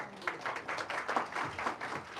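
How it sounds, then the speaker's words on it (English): An audience at a community tech meetup claps together in a dense, steady burst of applause that carries on for a couple of seconds. "can we have a big round of applause for them?"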